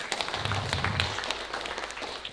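Audience applause in a hall at a political party conference, a steady wash of clapping through the whole stretch, moderately loud and spread out, with no voices standing out.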